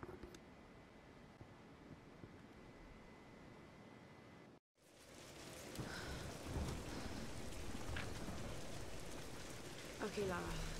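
A steady hiss of storm rain in the game Tomb Raider: Definitive Edition, faint and continuous, briefly cutting out before returning slightly fuller with soft patter and drips.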